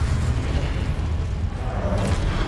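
A fire spell, Incendio, cast in the video game Hogwarts Legacy, erupts as a loud, sustained roaring burst of flame with heavy low rumble that holds steady for the whole moment, with no talking.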